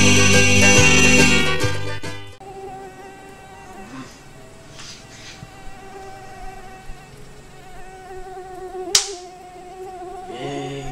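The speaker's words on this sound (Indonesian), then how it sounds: "Nyamuk dia." High, thin whine of a mosquito buzzing close by, rising and fading in steady drones after a loud music opening, with a brief sharp swoosh near the end, set in an insect repellent advert.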